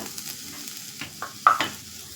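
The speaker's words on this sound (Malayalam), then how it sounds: "ഈ പച്ചമണമൊക്കെ മാറുന്നത് വരെ ഒന്ന് ഇളക്കി കൊടുക്കാം." Curry mixture with elephant foot yam stirred in a hot pan, a few short scraping strokes and light clatters of the spoon over a quiet sizzle, close and clear, no talking.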